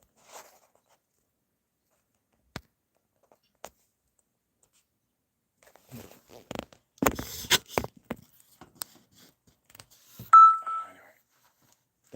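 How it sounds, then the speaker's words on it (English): A single short electronic beep marks a live stream starting, faint and brief, after scattered clicks and handling noises in a quiet room. "That should be the telltale beep."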